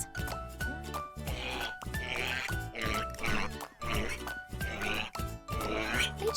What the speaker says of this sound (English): Now let's go and see the piglets.